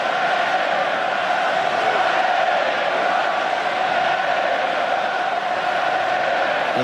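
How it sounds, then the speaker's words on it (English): A big rugby stadium crowd at an England vs France quarterfinal in Auckland roars in a sustained, dense cheer that holds steady and loud from start to end. "Now the big cheer goes out"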